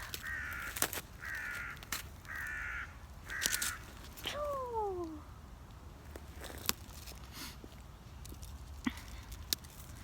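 Crows caw in a series of four harsh, evenly spaced calls, followed by a couple of descending cries, with scattered clicks and taps around them.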